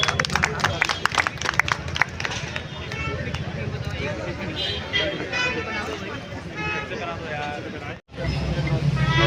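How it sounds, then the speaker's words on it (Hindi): Scattered crowd clapping welcomes the guest of honour at the inauguration of the Winter Line Carnival in Mussoorie, mixed with steady crowd babble and voices, with a brief drop-out near the end. "मैं आप सभी से रिक्वेस्ट करूंगी कि जोरदार तालियां हो जाए एक बार।"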